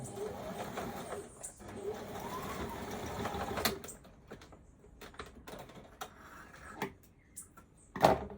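A sewing machine stitches a skirt in a quick mechanical whir for a few seconds, then stops, followed by sparse clicks, handling noises and a sharp knock near the end.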